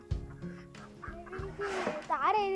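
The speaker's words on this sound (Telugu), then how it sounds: "ఇక్కడ కోళ్ళు కూడా ఉన్నాయి" Chickens at a dairy farm cluck close by in a few short bursts, rising into a louder, wavering call near the end, with faint voices in the background.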